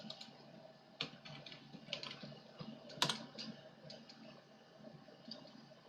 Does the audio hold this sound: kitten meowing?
no